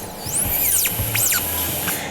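A high-pitched dental drill whines in sweeping rising and falling pitches, loud and close, over low background noise, cutting a crack in a dog's broken tooth.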